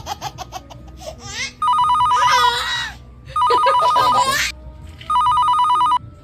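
Telephone rings in three loud, trilling bursts with pauses between them, while laughter and giggling come through around and between the rings.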